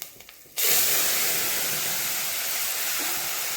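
Dal hits a hot tempering of spices and curry leaves for Gujarati dal dhokli, bursting into a sudden loud sizzling hiss that holds steady and close, following a few quiet kitchen clinks.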